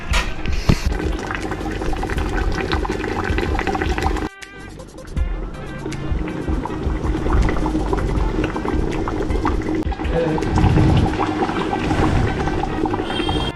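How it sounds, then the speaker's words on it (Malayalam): A pot of Hyderabadi-style fish curry bubbles and boils vigorously and continuously at close range, with a brief dip in the sound partway through. "മീനാണ് അടിപൊളിയായിട്ട് ഇങ്ങനെ തിളച്ചോണ്ടിരിക്കണം കേട്ടോ"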